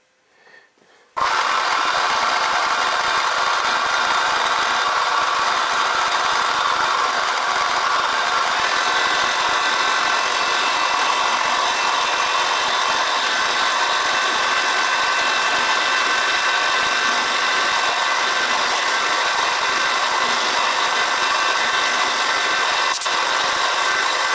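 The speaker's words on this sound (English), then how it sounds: "we're all set up to do the rotary table work on this one" A milling machine cuts on a rotary table while machining eccentric straps for a Stuart 10V steam engine: a steady, loud whir runs continuously after a brief quiet start, with a faint click near the end and no talking.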